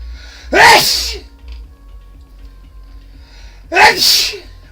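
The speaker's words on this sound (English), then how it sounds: "Excuse me, I gotta sneeze." Two loud, close sneezes from allergies, a few seconds apart, with quiet room noise between them.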